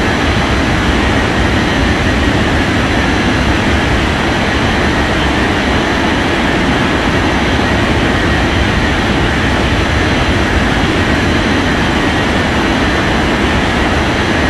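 Steady, loud roar of a jet airliner taking off in an air traffic control game, a dense continuous engine rumble and hiss that holds constant throughout with no break.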